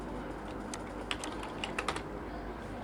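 Typing on a computer keyboard while entering text in CorelDraw 2020, a quick, light patter of key clicks heard close up over a steady background hum, with no speech.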